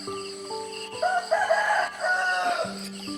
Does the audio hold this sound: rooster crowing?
yes